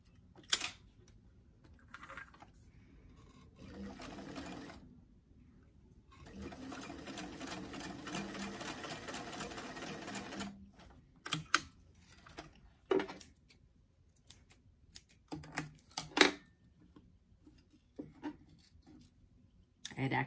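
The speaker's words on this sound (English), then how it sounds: "we're bringing our piece over to the sewing machine" A sewing machine stitches fabric for doll clothing in bursts of rapid mechanical stitching, with a longer steady run in the middle, separated by pauses, clicks and handling noises.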